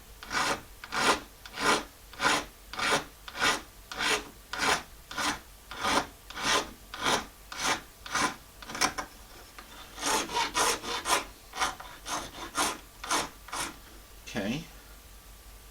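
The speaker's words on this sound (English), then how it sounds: "the more I'm going to use small files. Okay, and just taking off the corners." A small hand file rasps against a bone fish hook in quick regular strokes, each a short scratchy pulse, close and fairly quiet, with a brief pause midway and a single spoken word.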